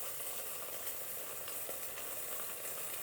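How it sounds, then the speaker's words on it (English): Butternut pumpkin dip sizzles steadily inside a Tupperware Micro Pro Grill, a soft continuous crackle and hiss heard up close and fairly faint, with no talking. "it's sizzling away beautifully"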